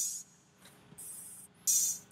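Three open hi-hat loops treated with a flange effect sound as hissy, swirling bursts of metallic sizzle, separated by short gaps, fairly loud with no talk.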